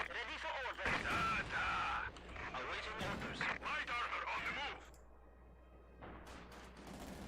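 Gunfire hammers at a house in Company of Heroes 2, with dense bursts of shots and impacts that break off, then come back more faintly against a low battle hum.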